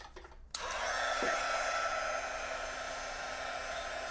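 A heat gun drying and flattening collage paper switches on with a sharp click and then blows as a loud, steady, hissing whoosh close by, with no talking.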